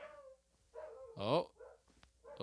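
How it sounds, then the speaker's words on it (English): A pet dog barks a few times close by, short sharp yelps mixed with whimpering, while a person talks over and between the barks. "That's my dog, Rio. He's barking at somebody."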